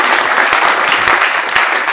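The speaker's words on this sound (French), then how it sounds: "Applaudissez encore une fois plus. Applaudissez." Loud, sustained applause from an audience after a minister's address, dense clapping with a few sharper individual claps standing out.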